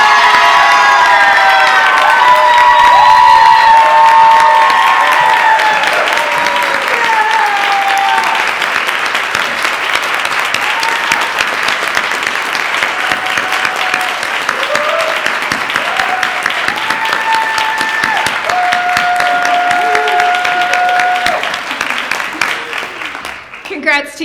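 Sustained applause from a large audience at a peace oratorical contest, steady and loud throughout, with some cheering and voices mixed in, tapering off at the end.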